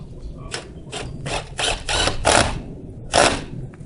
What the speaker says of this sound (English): I've got a stainless steel self-tapping screw, fortunately, so I'm not going to be splitting a whole lot of wood putting this